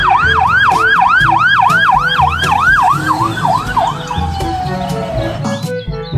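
A toy ambulance siren wails in a fast, repeated up-and-down electronic cycle, loud and close, slowing and fading toward the end over faint handling clatter.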